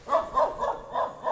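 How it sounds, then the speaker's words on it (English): Dogs barking on a street in Bulgaria, about five loud, evenly spaced barks close by with nothing else between them. "there are dogs everywhere"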